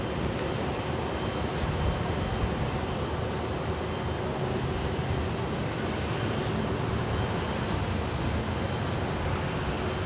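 Embraer E175LR regional airliner landing at LAX, a broad, steady engine roar that stays loud and constant throughout, with a few faint high ticks over it.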